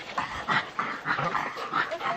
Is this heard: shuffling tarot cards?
no